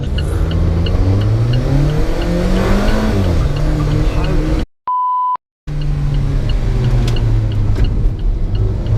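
Loud sports car engines rev and climb through the gears up close, roaring away from traffic lights, broken by a short electronic beep in the middle.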